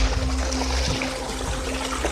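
Liquid soil-booster solution (amudha karaisal) trickles steadily into a barrel, a continuous low watery dribble running without a break under a faint outdoor background, with no talking.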